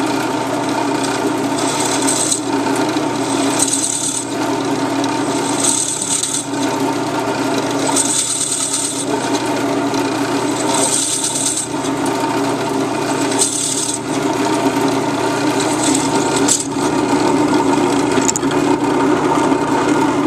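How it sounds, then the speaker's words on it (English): A barrel trimmer cuts into a wooden pen blank with a continuous, close rasping and whirring, pulsing in regular strokes for about twenty seconds without speech. "You're going to take the barrel trimmer and put it inside the hole that we made."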